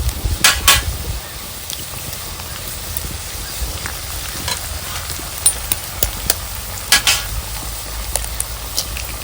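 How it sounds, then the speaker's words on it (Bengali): Two eggs frying with onion and chilli in a pan, a soft continuous sizzle with sharp spatula scrapes and clinks against the pan at the start and again near the end, close by. "পেঁয়াজের সঙ্গে ডিমটা ভালো করে ভেজে নেব"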